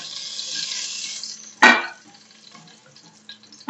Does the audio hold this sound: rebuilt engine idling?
no